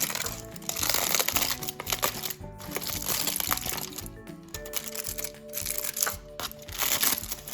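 Tin foil is unwrapped from quesadillas, giving close, irregular bursts of crinkling and crumpling with short crackly pauses in between.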